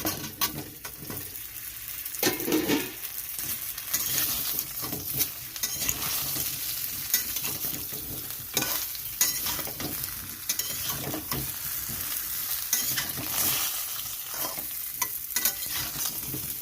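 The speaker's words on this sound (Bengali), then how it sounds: "আমটা একটু ভেজে নিতে হবে এরকম করে।" Mango pieces frying in hot oil with five-spice (panch phoron), a steady close sizzle with repeated stirring scrapes throughout, no voices.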